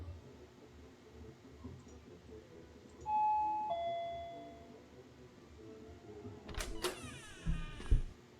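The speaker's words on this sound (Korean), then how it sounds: "초인종" In a Spanish Unreal Engine horror game, a doorbell gives a single ding-dong chime midway through a quiet rumbling ambience, and a burst of creaking, scraping noise follows.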